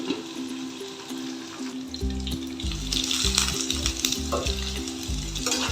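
Potato and pointed gourd frying in a pan, a steady close sizzle joined by regular scraping stirring strokes, with no voices.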